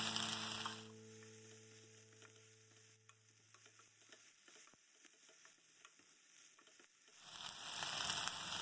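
Bay leaf, cloves and cinnamon frying gently in a pan, a soft steady sizzle with stirring scrapes, louder bursts at the start and end and quieter crackling in between.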